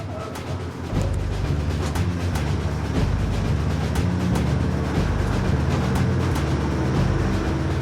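A passenger train rumbles steadily along a Brazilian railway to the coastal city of Paranagua, with rhythmic clacking of wheels over rail joints, a continuous loud rolling drone up close.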